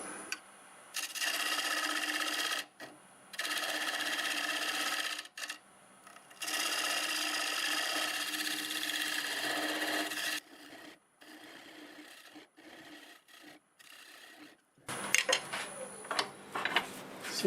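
Myrtle wood spins on a lathe while a tool cuts a dovetail, a fairly quiet, hissing, scraping drone in several long passes broken by short gaps, ending in rougher, choppier cuts.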